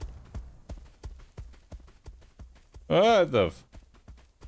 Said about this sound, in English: Those are big footsteps.